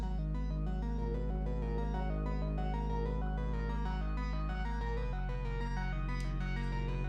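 Modular synthesizer sequence layered with a deep sustained bass line, a steady stepping pattern of tones over a constant low drone, even and continuous throughout with no talking.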